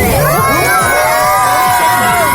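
A group of children at a summer camp shout together loudly in unison, a dense, sustained crowd of young voices cheering and yelling close by throughout.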